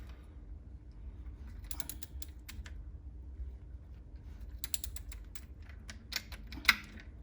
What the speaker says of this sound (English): So we're just torquing up the drain bolt now to 38 Newton meters.